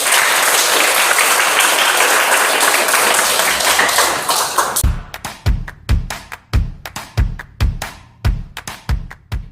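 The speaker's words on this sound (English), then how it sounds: "let us give a warm round of applause to Ms. Kyla Arojado and Ms. Maria Chofila Javier" Audience applause at a seminar workshop: a dense burst of clapping for about five seconds, then thinning into a sparse, slow rhythm of separate claps from a few people.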